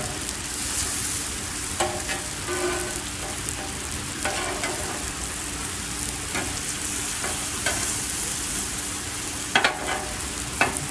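Atlantic salmon, potatoes, onions and peppers fry on a Blackstone griddle. A steady, close sizzle is broken by repeated scraping strokes of a spatula, with no talking.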